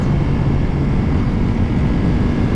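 A Ducati Multistrada V4 RS with a Desmosedici-derived V4 engine holds a loud, steady, dense engine roar, close and unbroken for the whole stretch with no talk.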